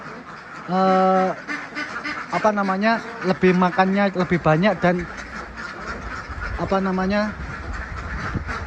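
Ducks in a duck pen give loud nasal quacks in bursts, some single and some in quick rapid runs, close by, while someone talks throughout.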